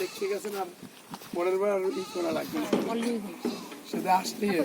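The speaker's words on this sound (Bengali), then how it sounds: "এই যে দেখুন ছাগল" Goats bleating in a field among a herd of livestock, several wavering calls coming close together, some loud and near, mixed with someone talking.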